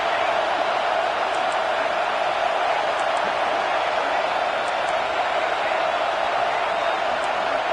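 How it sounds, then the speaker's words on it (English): A packed basketball arena crowd roars continuously at college game between Oregon and Auburn, a dense, loud, unbroken wall of cheering with a commentator's voice audible over it. "Listen to this crowd just shaking the girders of this place"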